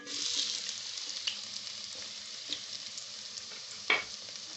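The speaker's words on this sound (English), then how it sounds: "Our oil is nice and hot. In goes our onions." Chopped onions hit hot coconut oil in a pan, a loud hiss at first that settles into a steady sizzle, with a few sharp pops and a scrape near the end.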